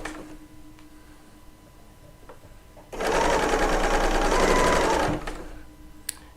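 A Bernina 790 Pro sewing machine stitching faux sashiko runs in one loud, close, steady burst of about two seconds, with quieter room noise before and after.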